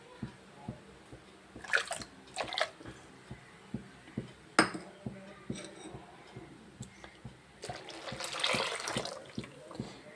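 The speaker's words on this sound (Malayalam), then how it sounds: "നമുക്ക് ഈ പാത്രം കൂടി ഒന്ന് കഴുകി ഒഴിക്കാവേ" A pot being rinsed with water in a kitchen, with splashing and pouring, several sharp clanks of the metal vessel, and a longer swell of running water near the end.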